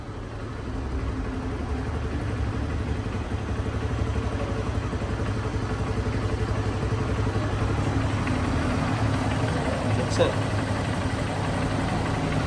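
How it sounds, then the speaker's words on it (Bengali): A second-hand Honda CB Trigger motorcycle idles steadily nearby, a low, even engine rumble running throughout with a faint clatter and one brief tick near the end. "ইঞ্জিনটা চালু অবস্থায় আছে স্টার্ট অবস্থায় আছে দেখেন সাউন্ডটা কাকে বলা হয়"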